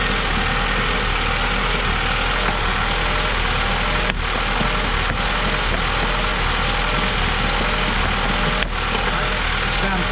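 A Honda car engine idling steadily with a fault, a constant loud mechanical drone with two faint taps or clicks as the idle air control valve is struck.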